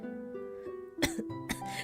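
A woman recovering from illness coughs twice in quick, sharp bursts close to the microphone, over a faint tonal background.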